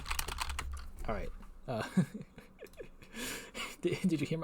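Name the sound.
computer keyboard being mashed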